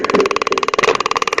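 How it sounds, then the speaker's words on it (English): A taser fires at a person held in a restraint chair. It gives a loud, rapid, buzzing crackle of fast electrical pulses that runs steadily through the whole moment with no voices. "That's the sound of the taser."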